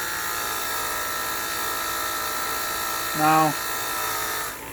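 A rotating wire brush scrubs deposits off hardened steel engine valves with a steady whirring buzz that holds throughout, while a voice speaks briefly over it.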